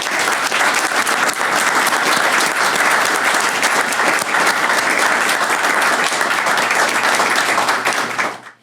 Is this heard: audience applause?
yes